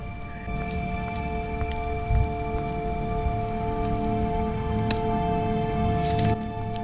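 Rain falls in The Wolf Among Us video game, a steady patter of drops on hard surfaces over a constant tonal hum, with a few sharper splashes and no talking.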